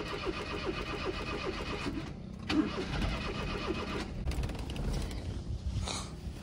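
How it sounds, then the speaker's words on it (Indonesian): A car engine cranks with a rapid rhythmic starter chatter, catches and settles into a steady idle, heard close and fairly quiet. "Ini kita start enjin dia."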